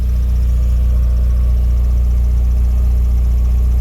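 A steady, low engine idle rumbling evenly and smoothly with no voices.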